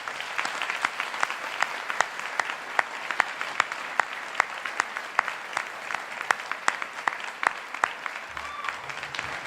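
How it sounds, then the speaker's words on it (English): Steady applause from a graduation ceremony audience fills the hall, a dense patter of many hands clapping with a few sharp louder claps standing out, continuing evenly for several seconds. "So please join me in congratulating them and giving them a round of applause."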